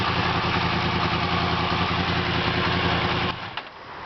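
A 2017 Yamaha FZ10 (MT-10) motorcycle with a modified exhaust runs loud and steady at high revs, then the engine note drops off sharply near the end as the throttle closes.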